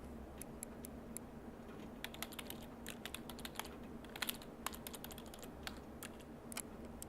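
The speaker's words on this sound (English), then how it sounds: "It's a keyboard." Computer keyboard typing in the Everlasting Summer video game: a quiet, fast run of crisp clacking keystrokes in irregular bursts over a faint low hum, with no talking.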